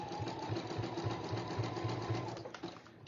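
A domestic sewing machine runs steadily while stitching zigzag on a folding zipped pocket carrier, giving a close, even mechanical whir with a regular rapid rhythm for about two and a half seconds before slowing to a stop.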